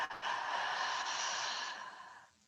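A single deep, breathy exhale during a guided breathing exercise, soft and close, a long airy rush that tapers off over about two seconds, alone without talk.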